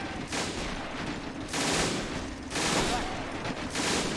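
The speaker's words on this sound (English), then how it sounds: "Let the machine guns take the place." Sustained machine gun fire in a Men of War: Assault Squad 2 battle on the German defense of Foy, Battle of the Bulge, loud rattling bursts roughly a second apart with brief lulls between them.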